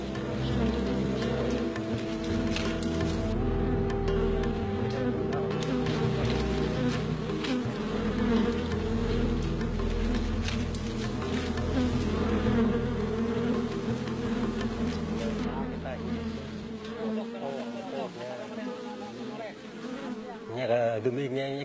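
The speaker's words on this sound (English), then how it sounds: "When we smoke the hive, the bees are stunned." A swarm of bees hums around a wild hive in Myanmar, a loud, dense, continuous buzzing close by with individual insects flying past, fading slightly near the end.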